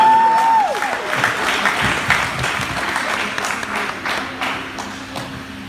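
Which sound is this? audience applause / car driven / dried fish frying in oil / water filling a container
audience applause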